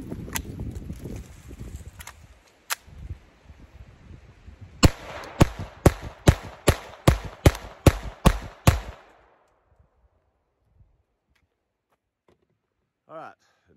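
Glock 44 .22 rimfire pistol firing CCI Mini-Mag rounds: a few scattered sharp reports, then a steady string of about nine evenly spaced cracks close by, followed by quiet and a brief faint noise at the end.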